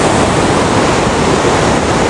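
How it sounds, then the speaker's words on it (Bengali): Lodh Falls at Netarhat pours down hard, making a dense, continuous roar of rushing water that is loud and close, with no pauses. "এই হচ্ছে লোধ ফলস।"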